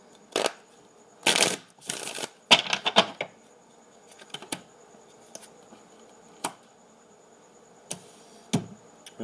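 Tarot cards riffle and slap together in several quick bursts, then scattered soft taps and flicks with quiet gaps between, close up.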